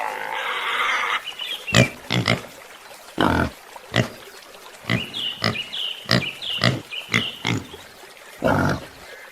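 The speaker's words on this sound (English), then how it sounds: "pig," A pig grunts and squeals in short, irregular bursts over a steady farmyard hiss, with a few harsher, louder snorts scattered among them.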